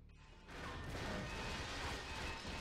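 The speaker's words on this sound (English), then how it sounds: "So let's just throw a nade at him." A grenade detonates in 007: Agent Under Fire, a loud, sustained rumbling blast that swells abruptly and fills the short span with dense noise.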